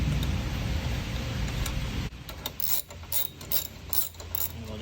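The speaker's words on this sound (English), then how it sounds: "The nut is a 10 millimeter. Keep going until that is tight." A hand ratchet clicks rapidly in uneven strokes while tightening a 10 mm nut on a BMW N20 intake install, close and fairly quiet.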